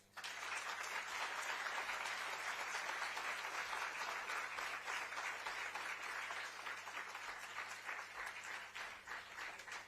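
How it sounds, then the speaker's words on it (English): Sustained applause from an audience at a literature festival talk, dense clapping holding steady for several seconds before slowly thinning out toward the end. "I think we deserve a big clap."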